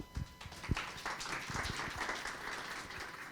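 Audience applause welcoming a speaker at a scientific Python conference talk, a steady wash of many hands clapping that fills the room, starting with a few sharper claps and continuing evenly.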